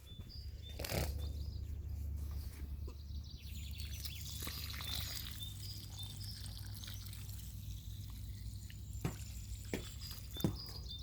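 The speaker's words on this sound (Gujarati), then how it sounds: "ચાલો તો હવે પાણી આપણે આમાં કેરામાં વાળી દઈએ છીએ" Water trickles and dribbles quietly into the soil of a garden plant bed, with scattered drips and splashes and a faint bird chirp in the background.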